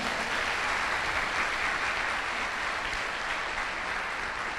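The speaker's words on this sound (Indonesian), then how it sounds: "Tepuk tangan dulu buat Anda." Seminar audience applause: a continuous, even roar of many hands clapping at steady loudness throughout, with no talking over it.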